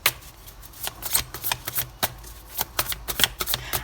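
Tarot cards handled and laid out one by one: soft crisp slaps, flicks and shuffling rustles in an irregular rhythm, close and fairly quiet, with no voices.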